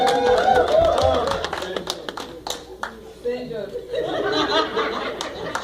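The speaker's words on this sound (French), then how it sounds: "On applaudit le Seigneur." A church congregation at a couple's wedding at Restoration Church claps along in a loose rhythm, mixed with voices, chuckles and scattered talk.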